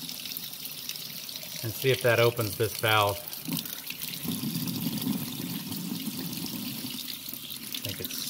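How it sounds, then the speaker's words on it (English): Hot water runs steadily from a kitchen sink tap over a pool and spa heater's thermal regulator, giving a continuous hiss and splash under a man's brief speech. "I'm in the kitchen sink with all hot water."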